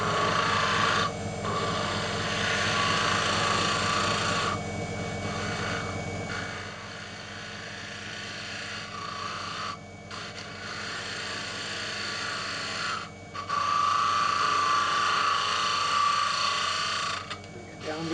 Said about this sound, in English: I'm just going to use a bowl gouge for that